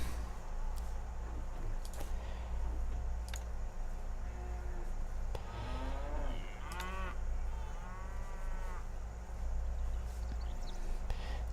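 Cattle mooing in the Stronghold HD game, several drawn-out low moos in the middle of the clip over a steady hum and faint mouse and keyboard clicks.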